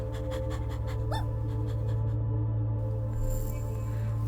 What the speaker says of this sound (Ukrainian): А, знайшли песика.